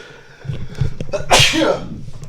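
A single loud sneeze bursts out close by after a short intake of breath, with faint indoor background noise around it.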